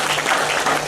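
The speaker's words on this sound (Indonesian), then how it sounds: "saya minta tepuk tangan dulu buat Pak Sulis dan panitia ini" Audience applause at an Islamic sermon gathering, a brief dense burst of many hands clapping, loud and close.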